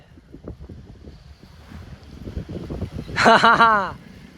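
At an outdoor market in Gozaria, strong wind buffets the microphone in irregular low rumbling gusts that build louder, with a brief loud tonal call cutting through near the end.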